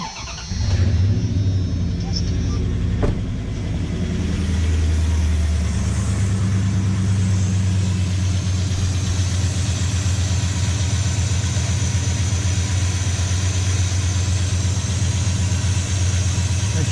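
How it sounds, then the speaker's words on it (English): A 1996 Dodge Ram 5.9 V8 truck cranks, fires and settles into a steady, deep idle with an aftermarket Flowmaster-style muffler, the rumble continuing loud and close for the rest of the clip. "we'll go ahead and start the truck up, top it off, and then I'm going to let it run for a little bit"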